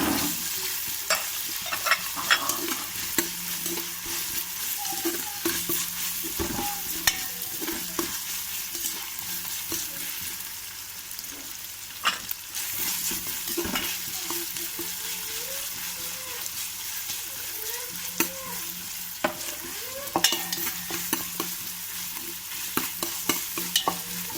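Chopped coriander and mint leaves stirred into frying chicken biryani masala in a pan, a continuous close sizzle broken by frequent spoon scrapes and clicks throughout.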